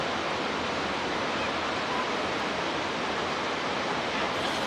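A waterfall near Perwa Ghat roars as a steady, dense rush of water, loud and unbroken, with no voices.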